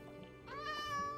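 A cat in the video game Minecraft gives a single short, clear meow that rises and then holds, fairly close and alone over quiet background sound.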